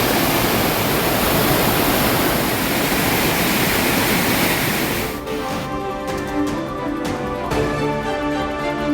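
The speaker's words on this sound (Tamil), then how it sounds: "வைகை ஆற்றின் இரு கரைகளையும் தொட்டவாறு ஆர்ப்பரித்து செல்லும் தண்ணீர்" Floodwater in the Vaigai river, running high and touching both banks, makes a loud, steady roar for about five seconds before it gives way to a tonal musical sting.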